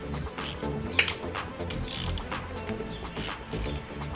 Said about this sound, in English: grab your 10mm and just go around the outside and undo it all.